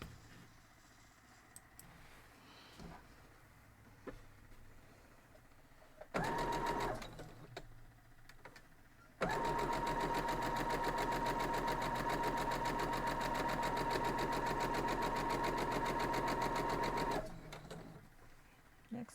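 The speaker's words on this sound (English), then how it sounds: "I'm just going to take the one at a time over to the sewing machine and sew them straight down." A sewing machine stitches quilt block pieces: a short burst of fast whirring, a pause with faint handling noises, then a long steady run of rapid stitching before it stops and the fabric is moved.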